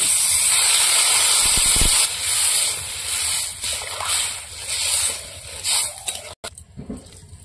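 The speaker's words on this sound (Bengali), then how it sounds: "এবার জল দিয়ে দেবো।" Water poured into a hot pan of potatoes coated in chili powder, erupting in a loud, dense hiss of steam that fades and sputters after a few seconds; close up, no talking.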